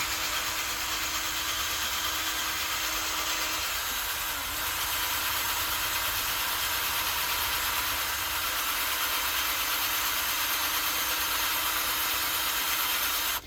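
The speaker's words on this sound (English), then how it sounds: "why I'm putting so much pressure on this drill" A power drill whirs steadily at close range under heavy pressure, working on a 2006 Ford Ranger, a continuous high-pitched grinding drone with no breaks.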